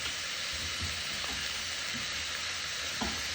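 Garlic sizzling in a frying pan while preparing a tajine, a steady close hiss of frying oil with faint stirring scrapes underneath.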